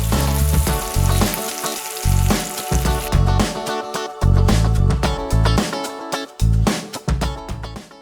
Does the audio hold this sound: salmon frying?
yes